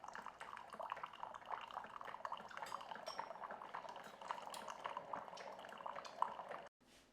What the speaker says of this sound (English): It's coming out slowly, dripping out slowly there.